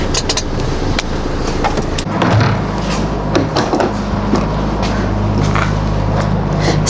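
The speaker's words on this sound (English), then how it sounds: "So, getting the lorry open" A horse lorry is opened at a dressage competition: loud, close clunks and rattles of its doors and latches, followed by a steady low rumbling hum.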